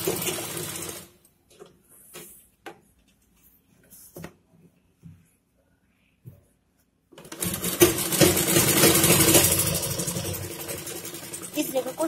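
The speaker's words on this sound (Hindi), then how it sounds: "सामने के दामन को मोड़ते हुए चाक तक सीधी लाइन में सिलाई चलानी है।" An electric sewing machine stitching a straight seam on a suit: scattered handling noises and short quiet stretches, then a loud, steady whirring run of the machine for the last few seconds.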